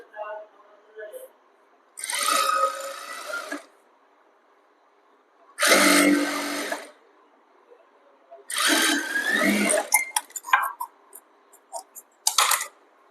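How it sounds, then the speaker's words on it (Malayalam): A sewing machine stitches the band piece of a panel-cut kurti in three bursts of rapid whirring, each a second or two long, separated by near silence and followed by brief clicks. "അപ്പൊ ബാൻഡ് പീസ് സ്റ്റിച്ച് ചെയ്ത് കൊടുക്കാൻ ഇങ്ങനെ വെച്ചിട്ട് സ്റ്റിച്ച് ചെയ്യാം."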